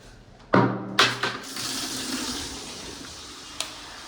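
Tap water pours into a bucket at a shop in a couple of abrupt gushes, then settles into a steady hissing, splashing stream close to the listener, with a small clank near the end.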